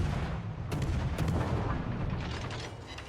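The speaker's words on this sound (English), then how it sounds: "Shooting a lot, not hitting a lot." Naval guns boom again and again in a warship video game featuring the destroyer Akizuki, overlapping shots and blasts rolling over a dense, continuous rumble with no talking.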